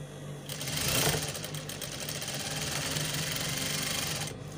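Sewing machine stitching crinoline onto a fabric peplum at a slow, steady pace, a continuous close whirring hum that swells briefly near the start and then stops abruptly at the end.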